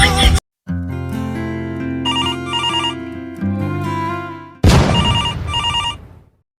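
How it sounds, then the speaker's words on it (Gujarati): A telephone rings in a Gujarati home comedy sketch, a loud melodic ringtone playing a repeating tune in several bursts with short gaps, close by and with no one talking over it. "ફોન ઉપાડો ને સ્પીકર કરો."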